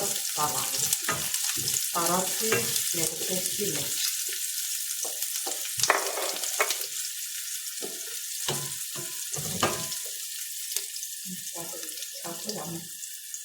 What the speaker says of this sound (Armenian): սրան ավելացնում եմ ռիգանը, մեկ էլ ռեհանը, որ դաղվի, տապակվի